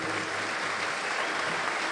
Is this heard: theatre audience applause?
yes